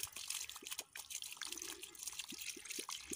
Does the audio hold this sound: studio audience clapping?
no